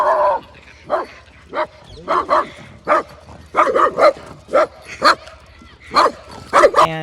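A dog barks in a rapid burst at a Doberman while out on a walk, loud close yaps and whimpering yips coming in an irregular run of about a dozen sharp calls.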